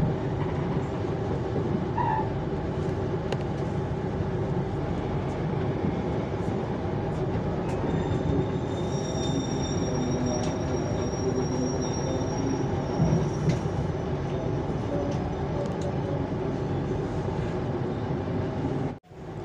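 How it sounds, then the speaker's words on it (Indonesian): Jayakarta passenger train pulling out of Prupuk station late at night, a steady loud rumble of rail cars and wheels continuing throughout, with faint high wheel squeal partway through, heard from on board. "KA Jayakarta kembali diberangkatkan dari stasiun Prupuk jam 23 lebih 18 menit."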